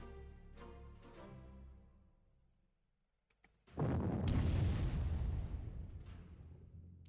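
Artillery fire in a World War II strategy game: a few distant thuds and tonal rumbles, a short pause, then a loud booming blast with a long rolling rumble.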